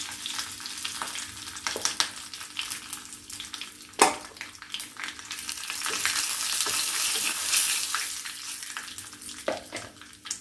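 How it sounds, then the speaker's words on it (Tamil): Mustard seeds, urad dal and curry leaves sizzling in hot oil, a crackling, bubbling fry with scattered sharp pops and spoon stirs, loud and close. "இது கொஞ்சம் எண்ணெய் ஊற்றிருக்கேன், கடுகு போட்டுக்கலாம், கொஞ்சம் உளுந்து போட்டுக்கலாம், இதில் கருவேப்பிலை போட்டுக்கலாம்"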